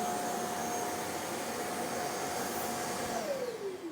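A Tapo RV50 Pro Omni robot vacuum dock pumping and draining water, a continuous loud whirring drone with a steady tone that drops in pitch in the last second, no voices.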